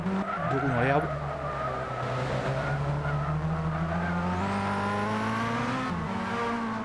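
Race cars in a racing video game sweep past on track with sustained engine whine, shifting pitch and tire squeal, loud and continuous beneath commentator speech.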